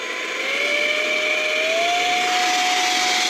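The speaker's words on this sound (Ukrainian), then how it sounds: "беремо нашу видувачку і будемо дивитися, що воно тут зараз буде" A handheld electric air blower from AliExpress whines steadily while blowing dust out of an inverter, its high-pitched tone rising slightly as it spins up, then holding loud and close.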